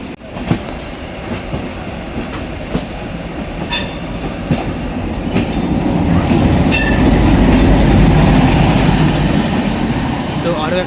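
Sahid Express train on the Howrah to Rampurhat run, a loud steady rumble of wheels on track with rhythmic clicks that swells louder as it goes on, heard from on board.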